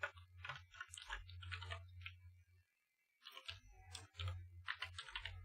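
Computer keyboard typing, close and quiet, in short bursts of rapid key clicks separated by a brief pause.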